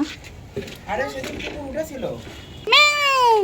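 A person speaks briefly, then a kitten lets out a clear, high meow near the microphone.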